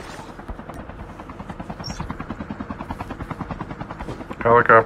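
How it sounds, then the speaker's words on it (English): Helicopter in the Call of Duty Mobile video game, a steady rhythmic rotor thump running throughout at moderate level, with a brief burst of louder game noise near the end. "Helicopter, is that us?"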